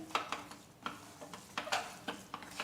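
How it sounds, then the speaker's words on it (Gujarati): Farali sukhdi mixture with dry fruits stirred in a pan off the flame, giving soft, irregular scraping and clinking strokes, fairly quiet and close, with no talking. "ફરી આપણે બધું સારી રીતે મિક્સ કરી દઈશું"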